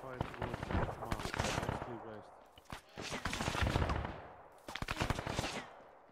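Gunfire in Arma 3, rapid automatic bursts and repeated shots in dense volleys, loud and close, broken by short pauses.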